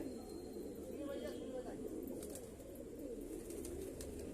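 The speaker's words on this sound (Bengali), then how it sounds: "এই পর্যন্ত আমি পায়রা দেখালাম" Caged pigeons at night give soft, low cooing over a steady background hum, fairly close but not loud, with no talking.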